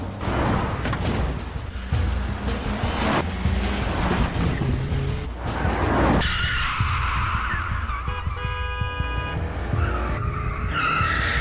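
Screeching tires and roaring engines fill a car chase through a basement garage in a Korean action film. The noise is loud and continuous, with no voices, and bursts of rushing, crashing noise come in waves.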